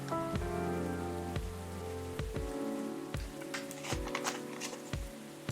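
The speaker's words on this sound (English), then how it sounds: "A place to be safe while the rain falls outside." Steady rain falls outside, a soft continuous patter behind gentle melodic music with recurring low plucked notes, no voices.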